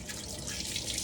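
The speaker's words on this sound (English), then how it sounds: "Rinse my hands." Tap water runs steadily into a kitchen sink as hands are rinsed during turkey preparation, a continuous close splashing hiss with no voices.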